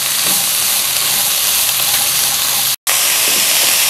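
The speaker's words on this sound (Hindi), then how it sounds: "ये ग्रीन वाला छोड़ देना है, बाकी सारा हमने फ्राई करना है। और तेज फ्लेम पर करना है।" Vegetables for chicken fried rice sizzle loudly over a high flame, a steady close hiss of frying with no talking.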